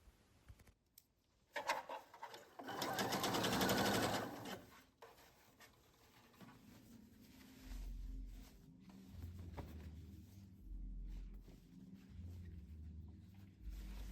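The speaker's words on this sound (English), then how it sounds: "stretch the elastic as you go and stitch it in place until the side seam." Sewing machine stitching stretched elastic into a puffed sleeve toward the side seam, a loud steady whirring run of stitching followed by quieter, lower intermittent machine rumbling and handling.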